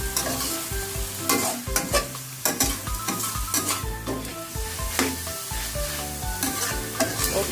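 Mussels with green onion are stir-fried in a pan, giving loud frying sizzle broken by repeated scraping and clanking stirring strokes in an uneven rhythm, with no talk.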